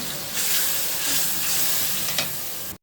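Water poured into frying onion and ginger-garlic masala bursts into a loud, steady sizzle with stirring scrapes, ending in a brief clink before cutting off.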